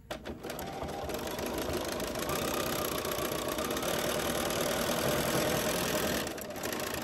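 A sewing machine stitching a ruffle box zip pouch, running steadily at a constant loud whir with a fast mechanical chatter, close by, briefly pausing before it ends.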